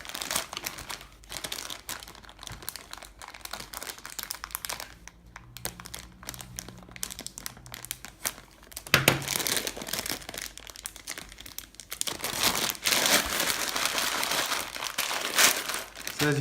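Plastic food bag with a thick double or triple layer being slowly sealed with a handheld heat sealer, giving steady crinkling and rustling close to the microphone, with brief low humming bursts midway and denser crackling toward the end.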